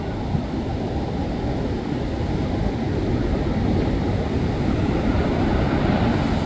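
Sea waves at a beach, a steady broad wash of surf that stays loud and constant, close by, with no talk.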